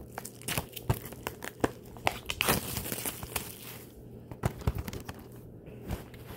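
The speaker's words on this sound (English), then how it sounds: "I'm gonna be unboxing Beethoven the 4th collection" Packaging for a Beethoven film collection on DVD being torn and crinkled during an unboxing, with close, irregular bursts of crackling plastic and paper and sharp rips throughout.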